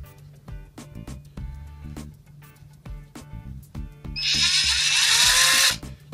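Rhythmic tapping and clicking, then a small electric drill with a thin bit whirs loudly for about two seconds before stopping, during video card capacitor repair.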